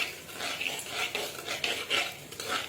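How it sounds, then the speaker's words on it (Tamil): Shallots, green chilies and curry leaves being sautéed in oil in a pan, with repeated scraping and stirring strokes of a utensil over a soft steady frying hiss, close and moderately loud, no talking. "இப்போ சின்ன வெங்காயம் பச்சை மிளகாய் கருவேப்பிலை நல்லா வதக்கிக்கலாம்"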